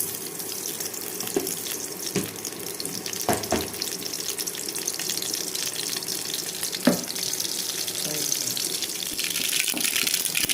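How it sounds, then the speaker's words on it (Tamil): Cumin and mustard seeds in hot oil give a steady crackling sizzle with scattered sharp pops, close and moderate in level, with no speech. "எண்ணெய் காஞ்சிருச்சு ஜீரகம் போடுறேன் கொஞ்சோண்டு கடுகு போடுறேன்"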